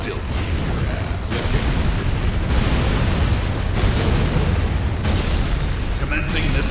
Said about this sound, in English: Commencing missile bombardment.